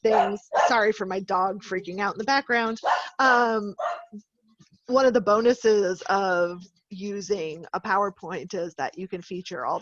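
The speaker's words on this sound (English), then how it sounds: "Sorry for my dog freaking out in the background." A dog barks and whimpers in the background of a home video call while a person talks continuously over it, the animal's sounds faint and partly masked by the voice.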